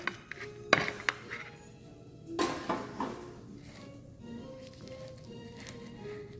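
A utensil cuts into a grilled egg dish with avocado on an outdoor grill, giving a few sharp metallic clinks and scrapes followed by softer tapping and shuffling handling sounds.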